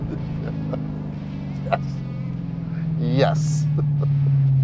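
A 2023 Dodge Challenger V8 with a six-speed manual rumbles with a deep, steady drone that swells louder near the end as it launches, with someone speaking briefly over it.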